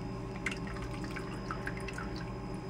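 Water drips and trickles steadily as a spoon presses moisture out of fresh clotted cream curds, with a low background hum.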